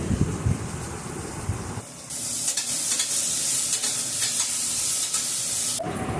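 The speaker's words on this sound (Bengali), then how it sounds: "পেঁয়াজটা ভাজতে এদিকে চাপিয়ে দিয়েছিলাম" Thinly sliced onions frying in a pan, a sudden burst of sizzling that settles into a steady, close hiss with light stirring scrapes, ending abruptly.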